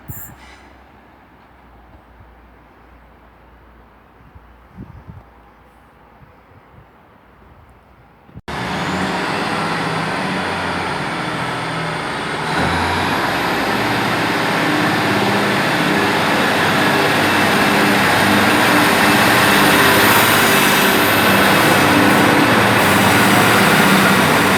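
A Class 155 diesel multiple unit pulls out of a station on a Northern Trains service, its engine suddenly swelling into a loud, sustained rumble and whine that builds and holds close by after a quiet platform hush.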